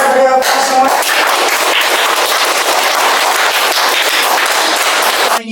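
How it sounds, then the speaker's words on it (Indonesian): Loud, dense applause from a lecture audience, steady clapping filling several seconds before cutting off at the end, with no talk over it. "Ya, kita beri aplaus semua."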